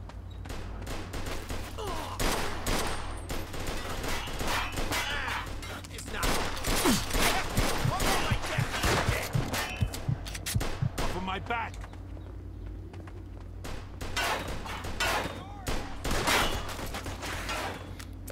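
Gunfire in the video game Mafia 2, rapid bursts of sharp shots and automatic fire rattling across the scene, loud and close, with a voice talking over parts of it.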